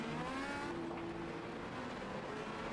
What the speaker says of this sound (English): Bit of a conga line of cars here,